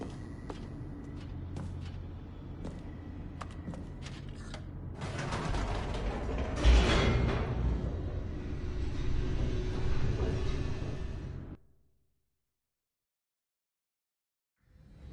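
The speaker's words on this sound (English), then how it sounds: "The elevator raced downward, plummeting towards an unknown fate." An elevator plunges downward in the video game The Stanley Parable, a steady mechanical rumble with creaks and clanks that swells louder midway, then cuts off abruptly to silence.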